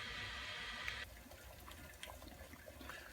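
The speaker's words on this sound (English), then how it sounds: "the water has started to boil over the stem" Water in a stovetop coffee percolator comes to a boil and spills over the stem, giving a steady rushing hiss that stops abruptly, followed by quieter intermittent bubbling and gurgling close by.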